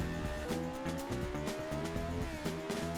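A 1970s Formula One car oversteering in the racing game Assetto Corsa, tires squealing over a loud, constant engine drone with shifting pitch, close and continuous.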